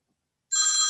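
A phone starts ringing abruptly halfway through, with a bright, steady electronic tone in a room during a school board meeting, after near silence and with no talk over it.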